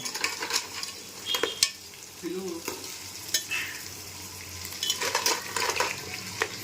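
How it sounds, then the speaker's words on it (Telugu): Washed crabs go into a pan for Telangana-style crab curry and are stirred, with sizzling frying broken by repeated clattering scrapes and knocks of a utensil against the pan, close and without voices. "మనము ఇవి కడిగిన ఉన్నాయి కదా ఎండ్రికాయలు మనము దీంట్లో వేసుకోవాలి"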